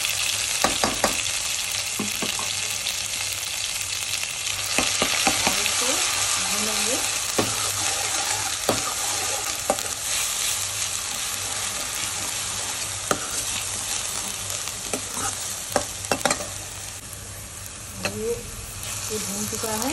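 Onion and green chillies frying in a pan for a chatpati bhindi dish, a steady broad sizzle throughout with occasional sharp clicks and scrapes of stirring, close and fairly loud, no talk.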